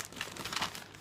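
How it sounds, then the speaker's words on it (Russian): Close, quiet crinkling of a plastic zip-lock bag being handled, a brief burst of soft rustles and crackles with no talking. "Такой пакетик зиповский."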